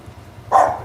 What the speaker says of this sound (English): You don't have to bark at Kuya.